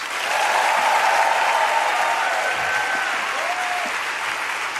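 Audience applause at a church gathering: sustained dense clapping from a large crowd, steady and fairly loud throughout, with faint voices mixed in.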